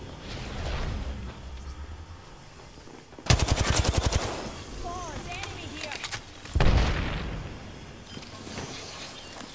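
Apex Legends gunfire comes as two loud bursts of rapid automatic shots, the second shorter, with game sound effects in between and voices speaking underneath.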